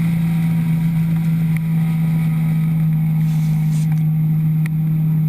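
A race car's engine drones loudly and steadily at close range while accelerating through the gears on a high-banked oval, a high-revving motor holding its pitch with little change throughout.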